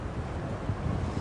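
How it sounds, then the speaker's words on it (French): Strong wind on a high-rise rooftop garden in Singapore buffets the microphone as a steady, loud, low rumble with no pauses. "Il y a beaucoup de vent"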